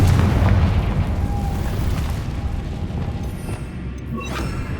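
A Confringo fire spell blasts off in Hogwarts Legacy, giving a loud, rumbling explosive boom that fills the first seconds and then settles into a sustained low roar with fainter magical crackles near the end.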